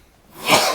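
One short, sharp sneeze, close and fairly loud, builds from a quiet intake of breath into a sudden burst near the end, with no talk.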